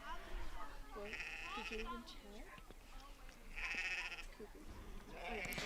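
Sheep bleat at a nursery herding dog trial with sheep panels, giving several bleats at a distance beneath steady commentary from a man.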